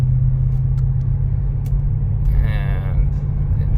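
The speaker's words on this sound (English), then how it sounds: "And so now I'm gassing it, guys. I'm gassing it all the way down." A 2007 Range Rover Sport stuck in limp mode pulls away sluggishly under full throttle, giving a steady low engine rumble that stays even and close with no sharp rise in revs, and a brief voice breaks in partway through.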